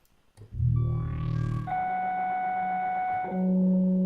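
Synthetic radio tone textures from a software instrument: a low buzzing drone, a rising sweep, then sustained steady electronic tones that shift to a lower pitch near the end, loud and alone.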